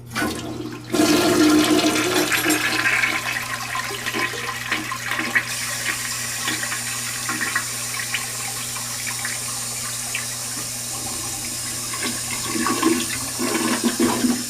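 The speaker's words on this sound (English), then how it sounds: "here's your toilet right here, which is an American standard and clearly an older one. Let's give it a flush." An older American Standard toilet in a Philadelphia airport hotel bathroom flushes with a loud sudden rush of water, then settles into a long steady swirl and refill hiss that runs to the end.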